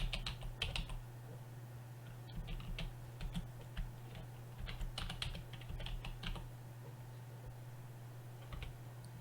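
Rapid keystrokes on a computer keyboard while entering a chapter label in an audiobook upload form, with irregular bursts of clicks over a steady low electrical hum, close and fairly quiet with no talking.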